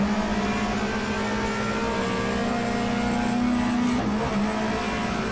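Race car engine in the GTR2 simulation rounding the final corner onto the front straight at Eastern Creek, a steady loud drone with a sustained engine tone that dips briefly near the end, continuous throughout.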